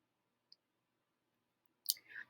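A single soft computer mouse click in a quiet room, followed by a brief louder clatter a moment later.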